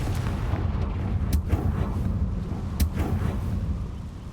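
A Confringo blasting spell in Hogwarts Legacy produces rumbling, booming explosions with two sharp cracks, followed by a low, continuous roar that fades slightly toward the end.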